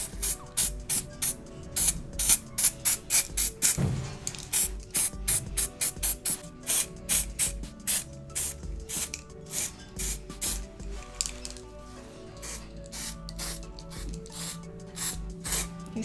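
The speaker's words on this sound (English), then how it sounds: "let me just try and spray a little bit more" A spray can being sprayed onto a person, a rapid series of short, hissing bursts close by, some quicker and louder, others more spaced out and softer.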